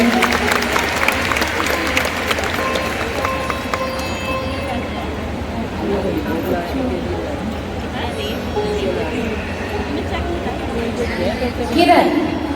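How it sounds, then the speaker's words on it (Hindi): Applause from a crowd at a women's empowerment ceremony in Delhi, a continuous rough wash of clapping mixed with crowd noise and speech, moderately loud throughout and swelling briefly at the end. "जोरदार तालियों से इनका उत्साहवर्धन करेंगे।"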